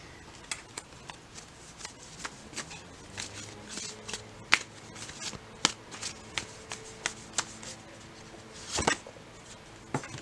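Tarot cards shuffled by hand, a quiet series of crisp snaps and riffles at an uneven pace, close and alone.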